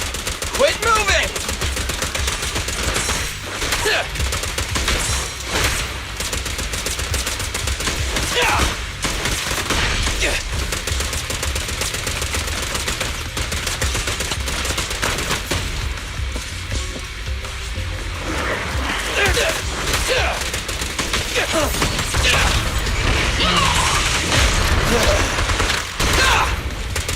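Sustained gunfire in the video game Zenless Zone Zero, dense rapid bursts running nearly the whole time at steady loudness with a few brief lulls, mixed with game effects.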